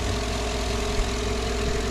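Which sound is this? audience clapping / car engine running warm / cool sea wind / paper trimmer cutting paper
car engine running warm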